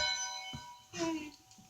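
A ringing bell from a small school-bell toy, its sustained tone lingering through the clip, with a brief louder burst midway, faint voices and handling noise underneath.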